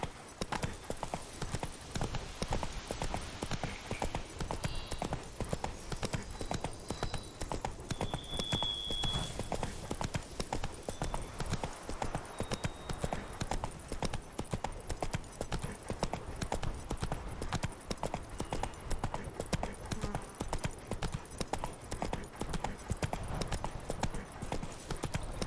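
Roach the horse galloping in The Witcher 3 Blood and Wine DLC: steady, rapid hoofbeats clatter throughout, close and loud, with a brief whinny-like tone midway and ambient game sounds underneath.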